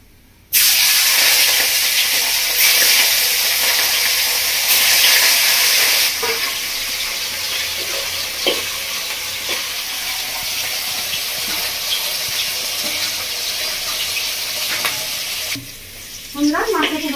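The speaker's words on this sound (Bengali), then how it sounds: "আরো একবার মাছটা ভেজে নেব।" Fish sizzles steadily and loudly in hot oil in a pan while being fried for a home-style fish curry with okra and potato. The frying noise starts abruptly and carries on almost alone, with faint clinks.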